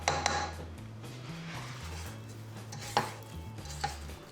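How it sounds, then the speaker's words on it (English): Spatula scraping cookie dough around a mixing bowl, with short scrapes and light knocks against the bowl, close and fairly quiet. "Give it a bit of a scrape, make sure nothing's stuck at the bottom here."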